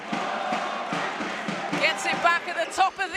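A crowd at an under-18 men's basketball semi-final between Reading Rockets and Manchester Giants, rhythmic clapping and stamping that grows into louder shouts and cheers while a commentator talks over it.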